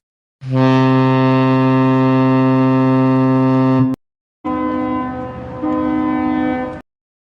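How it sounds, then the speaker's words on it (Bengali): A ship's horn sounds a fog signal, one long loud steady blast followed after a brief gap by two shorter blasts, heard alone. "ব্র্যাবো ফ্ল্যাগের কুয়াশার সংকেত হল প্রতি দুই মিনিট পর পর একটি লম্বা লং ব্লাস্ট এরপর দুটি শর্ট ব্লাস্ট"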